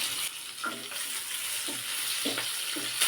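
Chopped onion and tomato with bay leaves fry in a pan, a steady close sizzle with a few soft stirring scrapes and light bubbling, no voices.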